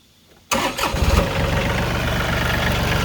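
John Deere 3032e compact tractor engine cranking briefly after a moment of quiet, then catching and settling into a loud, steady diesel idle close by.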